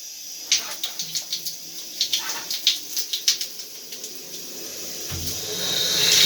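Water starts running through a gas water heater once the supply is opened, a steady faint flow under a row of rhythmic clicks, then a rising rush of water at the end.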